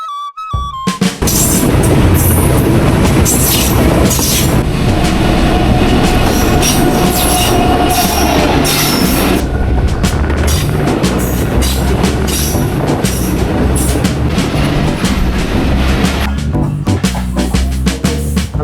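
Loud, close noise from the Rajbari–Kushtia shuttle passenger train roars continuously, with clattering wheels, metallic squeals and rattling carriages, no talking.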